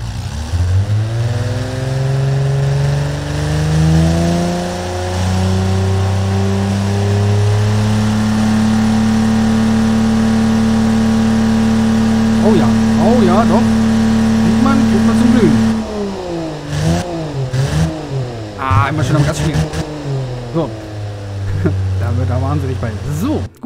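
An inline six-cylinder engine of about 215 kW from the Automation car-building game holds a steady, sustained rev for most of the clip, then falls into wavering pitch swings as it revs up and down near the end, with talk in parts.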